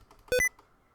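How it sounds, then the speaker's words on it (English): A single short electronic beep from the Windows sticky keys alert, clean and brief, with near silence around it. "if I press sticky keys, can y'all hear that?"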